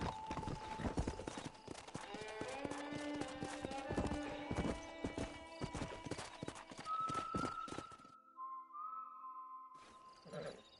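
Horse hooves clip-clop at a gallop in the Red Dead Redemption video game, with a horse whinnying and neighing over the busy hoofbeats and ambient game sound before a quieter stretch near the end.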